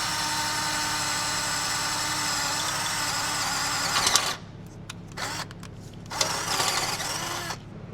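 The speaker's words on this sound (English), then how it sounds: "We're going to drill out the end of that crack so it doesn't propagate further." A drill bores into the end of a crack in a vehicle frame, a steady close whine for several seconds that stops, followed by short, uneven bursts of the tool starting and stopping.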